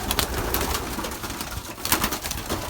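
A pigeon coos close by, soft throaty calls repeating over a rustly background, with a few brighter flutters or taps; no one speaks.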